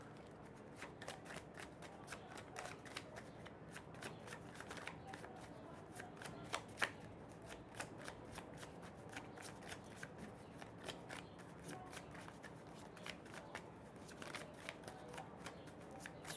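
A tarot deck is shuffled by hand in a steady run of soft, crisp riffling flicks, quiet and close, continuing with little pause throughout.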